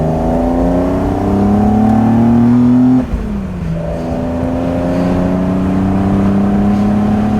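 BMW E28 running a swapped M30B35 straight-six on individual throttle bodies, revving loud and close with a rising steady drone, a sharp blip and dip about midway, then climbing again.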